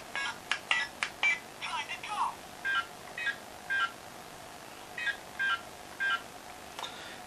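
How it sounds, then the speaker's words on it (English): A series of short electronic button beeps from a Bandai Power Rangers Samurai Samuraizer toy, some quick in succession and others spaced apart, with faint background hiss. "And also the button pressing sounds as well."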